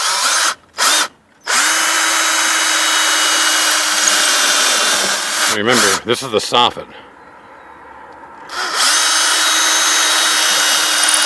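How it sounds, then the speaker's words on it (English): Power drill whirring in long steady runs while pre-drilling into wood during a window installation, briefly stopping and restarting, with someone talking over it near the end. "what I'm also going to do is I'm going to pre-drill"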